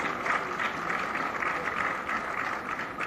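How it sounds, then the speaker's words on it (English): A large audience at the STONA 2023 closing ceremony at BIEC in Bengaluru claps steadily in sustained, even applause welcoming Karnataka Chief Minister Basavaraj Bommai, a dense wash of hands with no voices on top. "please give a warm welcome and a big round of applause to Shri Basavaraj Bommai, Honorable Chief Minister of Government of Karnataka"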